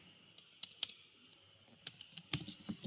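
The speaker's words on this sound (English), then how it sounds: "I can type array" Light typing on a computer keyboard, a scattered series of close, crisp key clicks with a short burst of faster keystrokes near the end and no speech.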